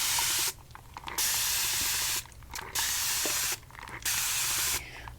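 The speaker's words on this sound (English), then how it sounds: "I'm just used to using a spray bottle because that is how my salon works." A hand-held spray bottle of water is used during hair shampooing in a salon. Four close, sharp hissing bursts come in a steady rhythm, each about a second long and separated by short pauses, with no talk.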